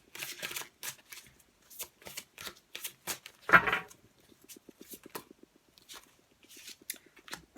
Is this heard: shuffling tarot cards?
yes